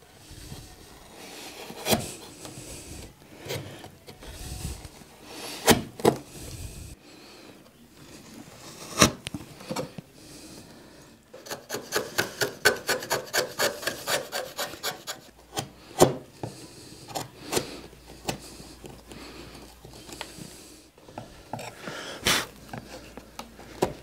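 A wood chisel works a wooden picture frame made from four kinds of wood, giving repeated close scraping and rasping strokes with sharp knocks, a steady run of quick cuts midway, alone without talk.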